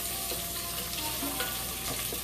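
Onions sizzling in a pan for a corned beef, cabbage and kielbasa dish, a steady close crackling fry with faint stirring and no voices.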